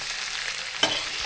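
Prawns with curry leaves are stirred in a hot pan for prawn curry: a constant bright sizzle with one sharper scrape of the spoon partway through, close and fairly loud, with no voices.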